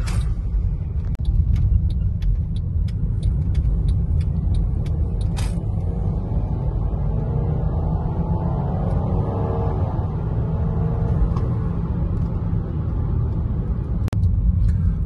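A Mercedes C250 W204 engine rumbles steadily from inside the cabin in sport mode, rising in pitch as it accelerates, with occasional sharp clicks and ticks over the drone.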